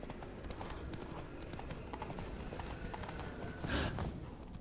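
A horse gallops in The Witcher 3 video game, steady rapid hoofbeats close and fairly quiet, with a brief louder thud of hooves near the end and no talking.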